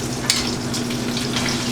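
Shallots and garlic for a steak sauce sizzle hard in a hot pan, a dense, close, steady frying hiss with one brief clink near the start.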